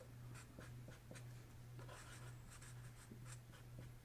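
A pen scratches across paper up close as a sigil is written out by hand, quiet, uneven strokes repeating over a soft, steady low hum.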